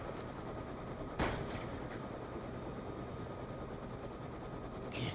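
A helicopter in Call of Duty: Black Ops gives off a steady, loud rotor and engine roar. It runs without a break through the clip, with a couple of sharp transient bangs on top.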